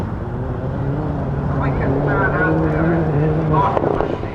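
A hired Toyota WRC rally car drives at a 2002 Punchestown rally event, its engine a steady mid-distance drone that rises and shifts pitch over a few seconds, with wind buffeting the microphone and voices faintly audible.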